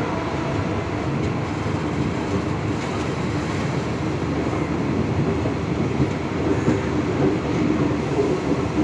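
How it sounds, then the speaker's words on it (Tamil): A Garib Rath express train departs Chennai Central and rumbles steadily along the tracks, a loud continuous roar with faint rhythmic clatter and no voices. "ட்ரெயின் கிளம்ப போகுது"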